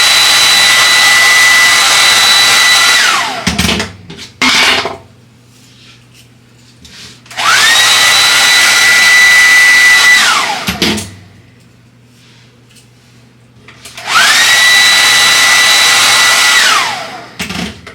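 A hair dryer blow-drying long hair roars loudly and steadily in three long bursts, switching off between them with quieter brushing and handling sounds in the gaps.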